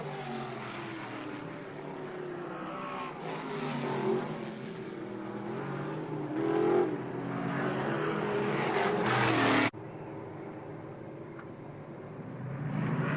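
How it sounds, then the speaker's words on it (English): Race cars accelerate on an oval speedway after a caution period, a continuous roaring engine drone that swells and fades as the field passes, cut off abruptly near the end. "Todd Burley gets back on the throttle, brings them down."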